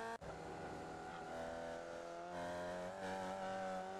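Formula Vee race car engine at Oulton Park, a steady loud droning note with clear harmonics that climbs slightly in pitch, close and continuous after a brief dip at the very start.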